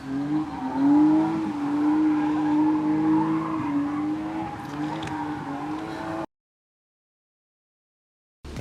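A car speeds past with a rising and falling engine rush and some tire noise, loud for several seconds before cutting to silence.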